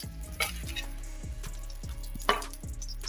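Cauliflower florets frying in hot oil for an aloo gobi matar sabzi give a steady, soft sizzle scattered with small crackles and pops, with no one speaking.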